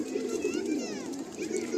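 Andhra Kalanka pigeons coo low and steadily nearby, with a faint rustle of movement in the background.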